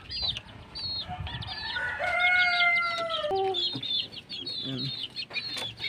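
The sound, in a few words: chicks and chickens peeping and clucking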